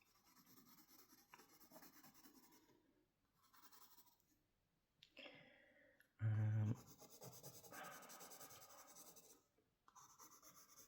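A pencil or pen draws on paper with close, soft scratching strokes in uneven bursts separated by short pauses, and one louder thump partway through.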